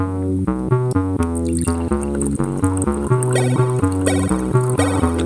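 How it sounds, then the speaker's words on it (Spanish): Distilled water pours into a glass in a chemistry class, a steady trickling and dripping with rising tones as the glass fills, close and fairly loud. "coloque un poco de agua destilada dentro del vaso"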